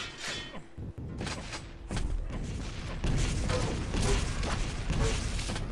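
Rocket launcher blasts and explosions in a competitive arena shooter match, a rapid run of booming thuds and mechanical clatter layered over continuous loud game noise.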